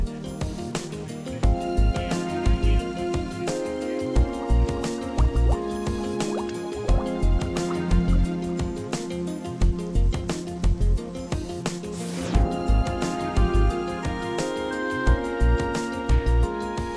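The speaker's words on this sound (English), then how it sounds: "Now fill the tank with water." Water pours into a Duraplas underground tank, making a repeated rhythm of drips and plops with a hollow, ringing liquid tone that stays close and fairly loud throughout.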